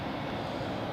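A Helvetic Embraer 195 E2 or 190 jet airliner at Zurich Airport gives off a steady, faint distant engine roar during a short moment with no voices.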